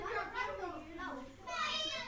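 Children's voices chatter and shout in the background of a room, a continuous jumble of kid speech and play noise at moderate loudness.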